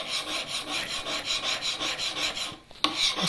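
Chisel being sharpened on a diamond stone plate: rhythmic back-and-forth rasping strokes, close and steady, with a brief pause and a light knock near the end; no talk.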